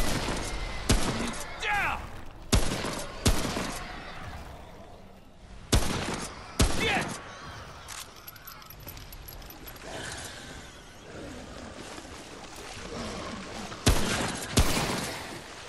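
Rapid gunfire bursts crack out in Remnant: From the Ashes, with sharp repeated shots and short volleys scattered across the fight amid clanking game effects.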